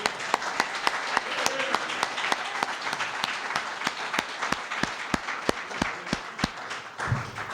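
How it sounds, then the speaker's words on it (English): Audience applause at a ribbon cutting in Jersey City, a steady, moderately loud crowd clapping with distinct sharp claps, continuing for several seconds before tapering off. "You deserve a round of applause, Ed."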